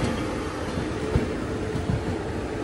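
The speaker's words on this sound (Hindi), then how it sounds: "देख लो वैशाली अभी जा रही है, कानपुर सेंट्रल एंट्री कर रही है।" The Vaishali Superfast Express rolls into Kanpur Central with a steady rumble, its wheels giving a few irregular clacks over the rail joints at close range.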